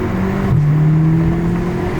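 Audi S3 fitted with a CTS turbo inlet and a muffler delete: a steady, close engine drone with a whirring turbo note that dips slightly and then holds, with no talking.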